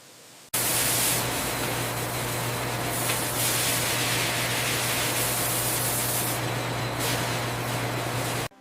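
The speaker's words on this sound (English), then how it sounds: "A final rinse removes sanitizer residue and suspended contamination before fruit reaches" Water sprays over rose apples in a fruit processing factory's rinse line, making a loud, unbroken hiss over a low mechanical hum that cuts off abruptly at the end.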